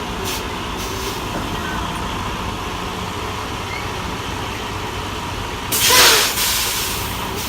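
A semi truck reversing and bending its trailer idles with a steady low diesel rumble, then a loud burst of air-brake hiss breaks out near the end before fading back to the engine drone.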